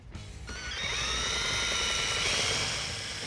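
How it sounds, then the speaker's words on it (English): A power drill with a 3/8 bit boring out rusted screws on a 1994 Ford F-150, a loud sustained high whine that spins up quickly and holds steady, close by. "so I'm just gonna drill them bad boys out."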